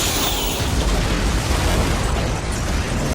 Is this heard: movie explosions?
yes